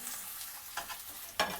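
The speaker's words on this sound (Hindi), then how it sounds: "प्याज को हम लाइट गोल्डन फ्राई कर लेंगे।" Sliced onion frying in hot oil for a beetroot sabzi, with a steady soft sizzle broken by a couple of short stirring scrapes, close and fairly quiet.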